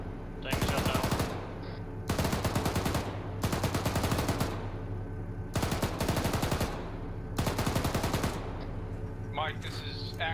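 Rapid automatic gunfire in an Arma military squad-training game, five sustained bursts of clattering shots about a second long each, evenly spaced with short pauses between, fairly loud over a steady background hum.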